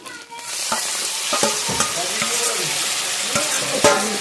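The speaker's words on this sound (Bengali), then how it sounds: "কাঁচা গন্ধটা যাতে চলে যায় সেই জন্য আমি একটু ভেজে নিচ্ছি।" Ginger, garlic and onion paste frying in a pan for a village-style Bengali coconut prawn curry: a loud, steady sizzle with scraping stirs and small spatters running through it.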